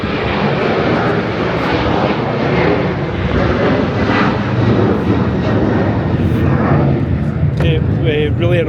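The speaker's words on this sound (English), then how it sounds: "oh, we have a big plane." A large airplane roars overhead at Prestwick Airport, its engine noise heavy and sustained, with people talking underneath.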